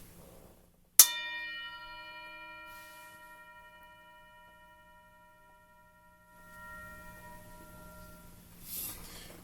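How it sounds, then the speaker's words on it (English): A single bell is struck once, ringing out with a sharp attack and a long, clear sustained tone that slowly fades over several seconds in a quiet room. "So I'm going to ring the bell."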